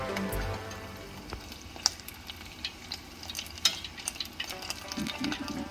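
Oil sizzles steadily as crab rangoons fry in a pan, filling leaking out, with sharp scattered pops and crackles throughout, close and moderately quiet.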